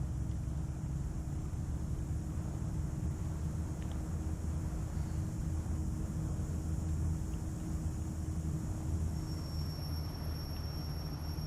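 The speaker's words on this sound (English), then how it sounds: "Now we wait for the engine to stabilize." A turboprop engine idles in a steady, continuous low rumble with a high whine above it, unchanging and loud throughout, no voices.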